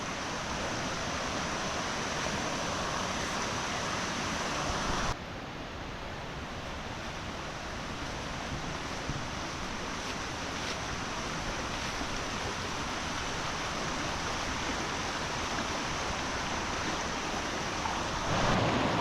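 Steady broadband rush of a stream of moving water flowing through an autumn valley at Kennall Vale, continuous and fairly loud, with a brief shift in tone early on and no voices.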